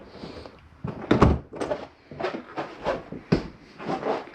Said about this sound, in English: And I'm going to close this bedroom door.